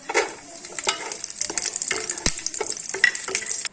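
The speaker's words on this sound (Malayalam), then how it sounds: "ഇനി നമുക്കതിൽ കിസ്മിസ് ഇടാം." Raisins dropped into hot ghee alongside cashews for a chicken biryani, frying with a steady close sizzle while a spoon stirs and taps against the pan in quick, uneven strokes.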